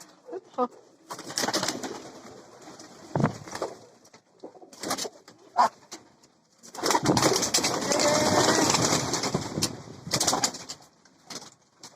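Pigeons at a village farm coo in repeated low, throaty bursts, close by, with some wing flapping and rustling between calls over about twelve seconds.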